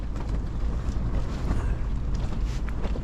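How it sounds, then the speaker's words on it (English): Strong wind buffeting the microphone on a sailboat anchored off Princess Margaret Beach, Bequia, a loud continuous low roar and rumble with no pauses. "It's really windy today."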